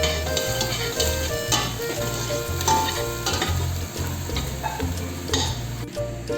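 Meat sizzling and frying steadily in a pan with browned garlic paste, a continuous loud hiss and crackle, with periodic stirring scrapes and a low rhythmic thump underneath.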